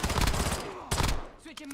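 Sniper gunfire in a multiplayer battle-royale shooter match: two loud, sharp broadband shots about a second apart, each with a short decaying tail, followed by quieter clicks and game sounds.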